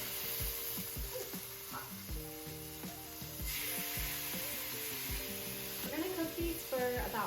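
Steady hiss of steaks searing in ghee in a hot pan, a continuous sizzle sitting low under background music.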